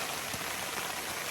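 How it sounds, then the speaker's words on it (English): Strong, steady rain falls outdoors along the Appalachian Trail, a dense, continuous hiss of drops spattering on surfaces with no gaps, loud and close throughout. "it's raining outside"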